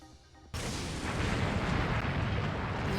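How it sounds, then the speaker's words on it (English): Cannon fire in the Hakuoki video game erupts after a brief quiet moment into a sustained, loud, rumbling barrage of blasts that continues unbroken to the end. "The aggressive roar of cannon fire made the roof shake, and soon cannons were blasting through our walls."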